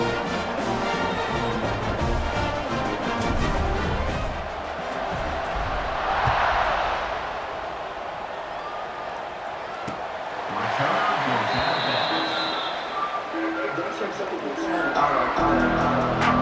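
A home stadium crowd at a college football video game, LA Tech at LSU, roars in broad swells that rise and fade twice, heard under steady play-by-play commentary.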